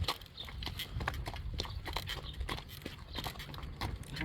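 A horse walks out of a barn toward the road, its hooves making a steady run of close, fairly quiet clip-clop steps with soft shuffling between them.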